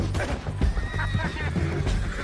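A horse whinnies in Red Dead Redemption 2 amid a tense confrontation, its neigh rising briefly over background game sounds, with faint voices and hoof movement nearby.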